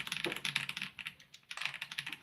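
A mechanical keyboard fitted with linear switches is typed on in quick, soft, evenly spaced keystrokes, heard close up with one brief pause midway.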